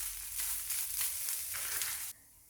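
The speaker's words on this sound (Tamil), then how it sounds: "ஸோ இந்த தேங்காய் ஒரு 5 நிமிஷம் நல்லா வறுப்படட்டும்" Grated coconut roasts in a pan for a chana dal chutney, stirred as it goes, making a soft, quiet sizzle with scraping strokes that cuts off abruptly near the end.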